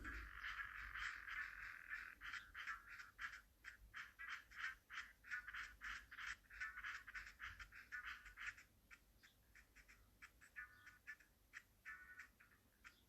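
Frog croaking in a SNES game, a rapid run of repeated chirpy game-sound croaks in regular pulses that later thin out, heard alone over quiet background music.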